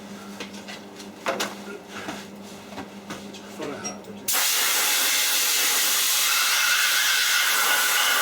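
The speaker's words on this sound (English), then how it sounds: "the compressed air" Compressed air blasts in a DIY electric-vehicle workshop, a loud continuous hiss that cuts in abruptly midway and holds steady, after a stretch of quieter workshop noise.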